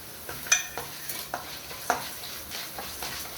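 Chana dal and urad dal roast in sesame oil for a vallarai chutney, a quiet, even sizzle broken by several soft stirring scrapes and light clicks of a spoon against the pan.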